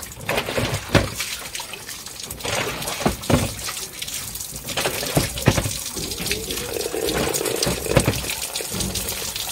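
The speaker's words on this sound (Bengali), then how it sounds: "এই যে জল দিচ্ছি তো" Water poured out onto roof tiles, splashing and trickling in uneven bursts at close range, with no talking.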